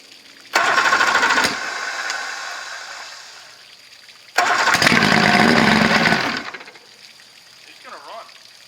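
Outboard motor on a 1984 Grady White Overnighter 20 boat being push-button started, two separate cranking bursts of about a second and two seconds with a fading rumble between, loud and close.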